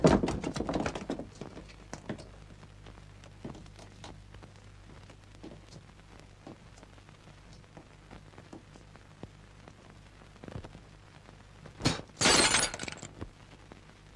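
A mirror breaks with a sharp, loud crash of shattering glass near the end, after a long stretch of quiet room noise and scattered small knocks.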